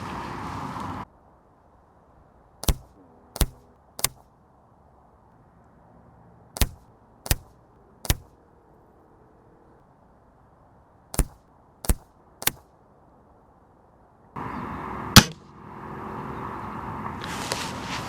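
Weihrauch HW50 air rifle firing JSB 13.43 grain and H&N Field Target Trophy pellets: three groups of three sharp, loud cracks, each a clipped snap with quiet gaps, between stretches of background hiss.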